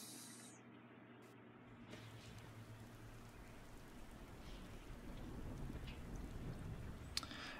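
Steady rain falls with misty weather in the video game Skyrim, a dense, even hiss of drops on surfaces that swells slightly louder toward the end, with a faint sharp tick near the close.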